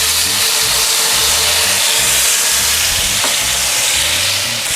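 Garlic sizzles loudly in a pan of melted butter and vegetable oil, a dense, close, continuous crackle with stirring underneath, part of cooking a dry-aged NY strip on a Weber kettle.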